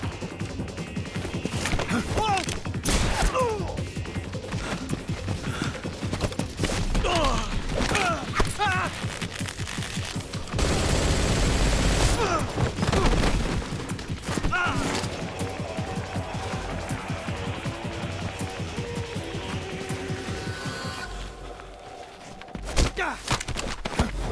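Gunfire in the video game Metal Gear Solid Delta crackles in dense bursts and rapid cracks mixed with thuds and impacts, close and busy throughout, with voices heard at times.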